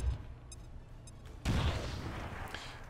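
A frag grenade goes off in XCOM 2 with a single loud, broadband blast, followed by a rumbling roar and debris that fade slowly into the background.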